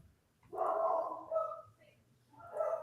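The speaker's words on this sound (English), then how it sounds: "the dog's barking right now" A dog barks in a few short muffled bursts somewhere in the room, set against a steady low hum, with a faint voice in the gaps.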